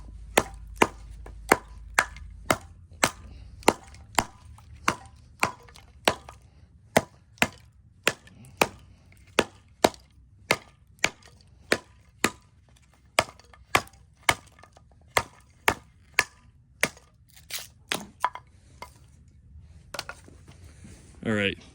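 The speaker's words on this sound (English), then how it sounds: "let's do some chopping" A heavy quarter-inch-thick Schrade SCHF52 survival knife chops into wood in a steady run of about thirty sharp, loud thwacks, evenly spaced at first and then quicker and more ragged near the end.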